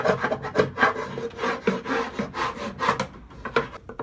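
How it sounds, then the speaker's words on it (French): Close, steady scraping and rasping inside the wooden body of a Dadant beehive, a tool working off propolis and wax in repeated rough strokes with brief pauses, no voices. "Donc vraiment bien gratter tout l'intérieur de la ruche."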